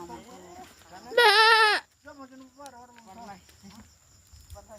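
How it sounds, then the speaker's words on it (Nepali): A goat gives one loud, wavering bleat close by, with people talking quietly before and after it. "गजब रहेछ यो बाख्रा।"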